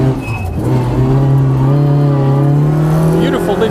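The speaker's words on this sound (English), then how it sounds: "The Mark II Escort absolutely shipping it." A Ford Mark II Escort rally car screams along a tarmac rally sprint, its engine loud and close with a sustained high rev that climbs steadily through the gear.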